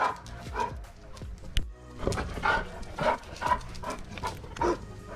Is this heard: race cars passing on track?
no